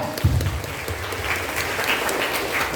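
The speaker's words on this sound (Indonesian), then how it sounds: "Tepuk tangan yang meriah." Audience applause at a Rohis student organization leadership training session in Klaten, a steady wash of many hands clapping, loud and continuous, with a brief low voice at the start.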